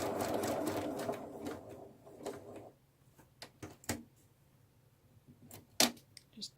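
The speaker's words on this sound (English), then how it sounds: "Top stitching it at 1/8 inch." A sewing machine runs for about two seconds while topstitching a small bunny gift bag at an eighth-inch margin with a lengthened stitch, then stops, leaving faint clicks and fabric handling sounds.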